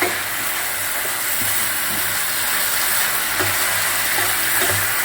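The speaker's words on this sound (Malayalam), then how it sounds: "മസാല വെണ്ടയ്ക്ക ഫ്രൈ ചെയ്തോട്ട് അങ്ങോട്ട് പിടിച്ചോട്ടെ." Masala-coated okra fries in a pan with a steady, close, loud sizzling hiss and faint occasional low knocks, with no talking.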